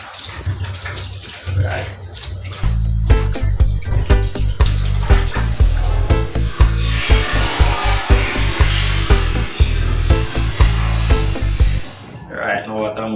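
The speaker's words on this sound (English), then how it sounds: "So what I'm going to do now is wash these off" Sweet potatoes washed under a running kitchen tap for a Jamaican sweet potato pudding, with a steady loud rush of water and rubbing, knocking handling sounds throughout and a brief spoken word near the end as the flow stops.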